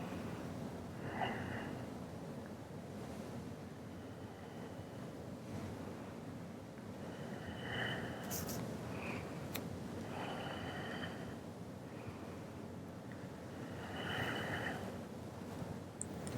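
Slow, steady breaths during a solar plexus chakra yoga flow, with soft hissing exhalations every few seconds over a low, airy background rumble.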